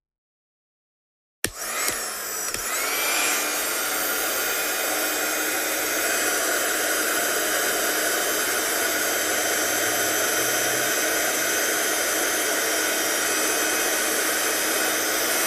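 Heat gun drying paint on a craft project, switching on with a sharp click and then blowing a loud, steady, close rushing hiss that holds for over ten seconds without talk.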